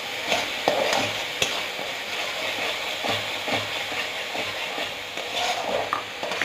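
Chutney is stirred in a frying pan over a continuous hiss of frying, with irregular scrapes and occasional taps of the spoon on the pan, close and steady throughout.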